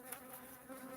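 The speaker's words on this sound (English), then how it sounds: "the only thing that's predictable about Africanized honeybees is that" Africanized honeybees buzz in a continuous, dense drone from many insects at once, steady and fairly close for the whole second, with no voices.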